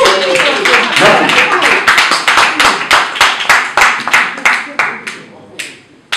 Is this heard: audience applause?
yes